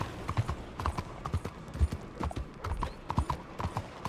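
Horse hooves clip-clop steadily on the ground in the video game Red Dead Redemption 2, a quick, even rhythm of soft close thuds at moderate volume with no voices over them.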